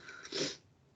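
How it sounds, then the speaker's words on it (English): A single muffled sneeze in the background, brief and fairly faint, followed by quiet. "sorry if you can hear sneezes in the background"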